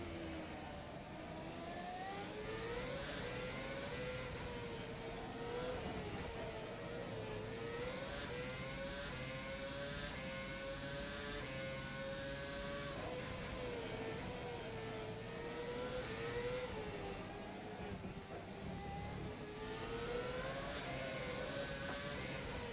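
Formula One car engine in the rFactor 2 racing game, a steady whining drone that rises and falls with gear changes and revs, heard continuously and fairly close throughout with no talking.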